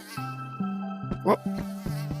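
Flies buzzing around an animal in the VR game Pets and Stuff VR make a continuous droning hum, joined by a sharper swishing burst partway through and several soft game thumps.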